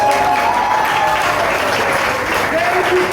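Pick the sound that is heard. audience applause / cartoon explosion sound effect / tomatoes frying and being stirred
audience applause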